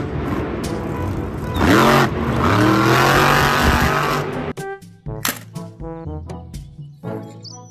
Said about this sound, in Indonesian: Mobil balap.